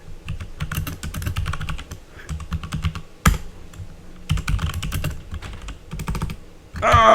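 Rapid keyboard typing in bursts of quick clicks, close up, with short pauses between runs and a louder clack partway through.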